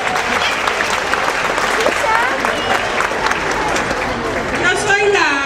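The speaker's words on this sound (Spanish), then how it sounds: "¡Aplauso!" An audience applauds steadily at a senior citizens' group stage performance of El Chavo del Ocho, with dense, even clapping throughout and voices talking and calling out over it.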